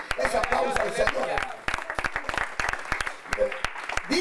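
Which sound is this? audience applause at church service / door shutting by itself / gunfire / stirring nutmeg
audience applause at church service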